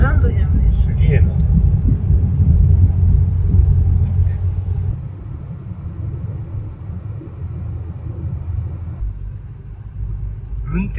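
A car driving along a road in Oman, heard from inside as a continuous low road rumble and engine drone, steadier and slightly quieter in the second half, with voices talking near the start.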